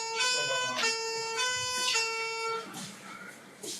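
An emergency siren wails nearby with a rising and falling tone, loud and steady, fading slightly toward the end.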